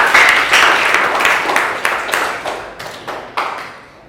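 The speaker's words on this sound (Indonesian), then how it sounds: "beri tepuk tangan untuk semuanya" An audience at a teacher performance test session at Universitas Muhammadiyah Purworejo claps for everyone. The applause is loud and close, with several distinct sharp claps over a fading wash of hands.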